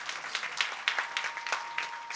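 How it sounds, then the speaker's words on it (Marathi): Audience clapping at a kirtan, a quick run of scattered, fairly soft hand claps in an uneven rhythm, with no talk over it. "टाळी वाजवा, टाळी टाळी."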